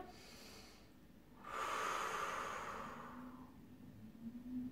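A deep nasal inhale during an upper back stretching exercise, one long audible breath drawn in close to the microphone and fading gradually, with no speech.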